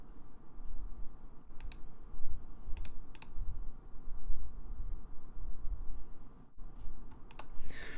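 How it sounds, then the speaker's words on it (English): Typing on a loud gaming keyboard: bursts of sharp clicky keystrokes in irregular runs, close and prominent, with brief pauses between flurries and no talk. "we're not gonna use the very loud gaming keyboard"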